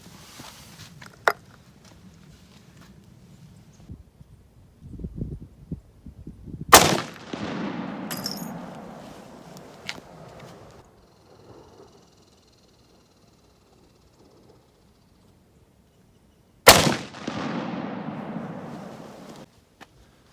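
A .348 Winchester rifle test-fired outdoors with 220 grain Barnes Original bullets: two sharp, loud shots about ten seconds apart, each followed by a long rolling echo that fades away, with quiet handling noises between.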